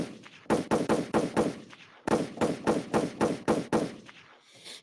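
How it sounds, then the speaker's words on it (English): Gunshot sound effects crack out in two rapid volleys of five or six sharp, evenly spaced shots each, with a brief pause between the bursts and no voices. "There's a reason why I'm letting off gunshots."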